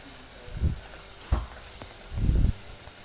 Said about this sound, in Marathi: आता हे वाटण एक मिनटासाठी छान परतून घेते